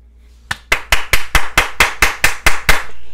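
Ten sharp, evenly spaced claps ring out close and loud, with no voices.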